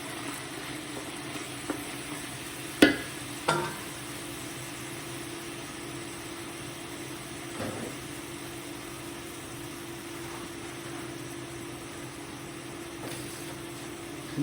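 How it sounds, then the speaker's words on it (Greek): Chopped dry and fresh onions sizzle steadily in olive oil in a pot over high heat, a continuous soft frying hiss with a few sharp clanks and knocks along the way. "και τα ρίχνουμε στην κατσαρόλα με το λάδι να μαραθούν."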